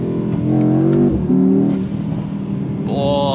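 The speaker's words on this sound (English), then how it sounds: "And bangs are really loud." Mercedes-AMG E63 S sports sedan engine roaring loud and close as it revs and pulls hard, harmonic exhaust note rising and dipping, with a sharp shift in tone near the end.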